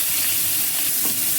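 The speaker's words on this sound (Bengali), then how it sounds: "তো এই মাছ ভাজা তেলে আমি পেঁয়াজটা ছেড়ে দেবো," Onion sizzles and is stirred in hot oil left over from frying fish, a loud, dense, continuous crackle with no voices.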